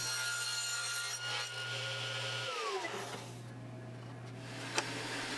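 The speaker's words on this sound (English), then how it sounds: "I trim down a piece of scrap on the table saw." A table saw hums steadily while trimming a piece of scrap wood in a workshop, with its blade tone dropping and shifting partway through the cut and a faint tick near the end. No one speaks.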